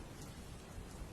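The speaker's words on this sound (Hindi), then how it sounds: "तभी अचानक बहुत तेज बारिश शुरू हो गई।" Heavy rain pours down in a dense, steady hiss that fills the space, loud and continuous with no pauses and no voices.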